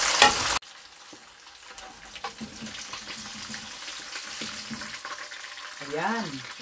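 Fish frying in hot oil in a pan for fish sarciado, a steady soft sizzle and crackle running through the clip, with a brief louder burst at the start and a faint tonal sound near the end.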